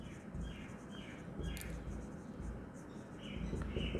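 A pen scratches across paper in short, quick strokes while an accountant writes up a financial statement. The strokes are faint and close, coming in small rhythmic bursts over a quiet room.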